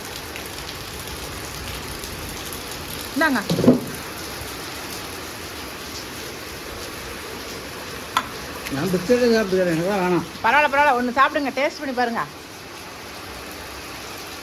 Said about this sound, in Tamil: பாருங்க சூப்பராக மழை பெய்யுது